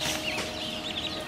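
Backyard chickens, Golden Lace Wyandottes and Buff Orpingtons, cluck and chirp in a brief, moderately close stretch with no talk.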